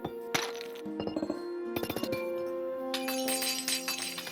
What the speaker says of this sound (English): adding sounds to when you move items in the inventory, and also adding sounds to when you place and break blocks